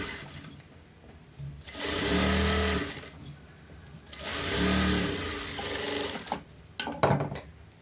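A sewing machine stitches a second line over a hand seam in lining fabric, running in two sustained bursts of about a second each with quieter pauses between and a few clicks near the end.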